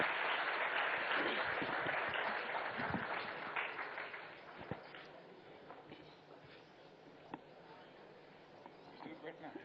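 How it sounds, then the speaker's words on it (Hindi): Sustained applause from a large audience welcoming a political leader onto a stage at a televised Indian forum, steady and loud at first and slowly tapering off. "तालियों से स्वागत करें उनका"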